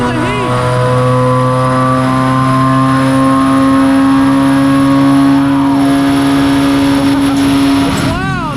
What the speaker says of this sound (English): we're about to go for run number 1 and see what the Z06 makes on the dyno.